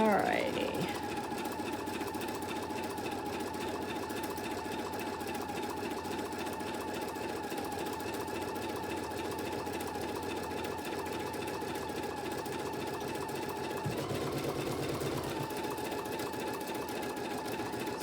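A sewing machine runs a steady placement stitch for a quilted bunny project, a continuous close mechanical whir with a fast rapid needle chatter that barely changes throughout.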